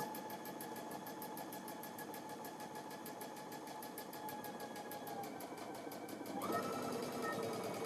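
A sewing machine stitching fabric strips runs with a steady, fast mechanical chatter throughout, shifting slightly in pitch near the end; faint background hum underneath.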